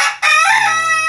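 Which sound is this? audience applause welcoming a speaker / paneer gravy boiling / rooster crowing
rooster crowing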